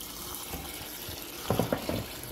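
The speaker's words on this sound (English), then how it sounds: "I'm going to soak them in cold water" Cold tap water splashes into a sink to soak stringless beans before cooking: a quiet, steady trickle with a few brief louder splashes and clatters near the end.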